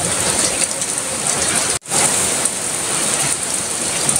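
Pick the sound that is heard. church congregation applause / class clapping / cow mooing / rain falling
rain falling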